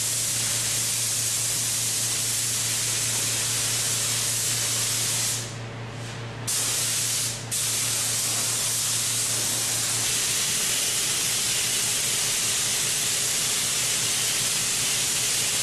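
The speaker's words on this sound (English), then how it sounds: "So this time the spray gun will be going vertically instead of horizontal." A paint spray gun hisses continuously while finishing metal aircraft parts, a loud steady spray with two brief pauses partway through, over a low background hum.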